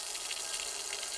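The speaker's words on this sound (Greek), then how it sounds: "Εν τόσο δύσκολο να κλείσετε μία βρύση." Water runs steadily from an open tap in a domestic setting from a Greek TV sitcom, a continuous bright hiss with no pauses or voices.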